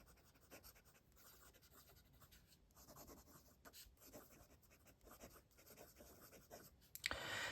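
Steady fountain-pen nib writing on paper, a soft continuous scratching with short pauses between strokes, close and quiet, ending in a brief louder rustle.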